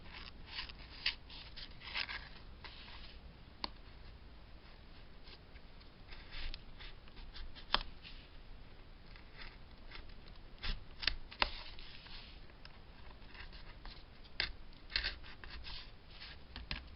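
Scissors trim excess shim material during an LR Baggs Anthem pickup install in a Martin DX1AE acoustic guitar, giving faint scattered snips and small clicks at close range over a quiet hiss.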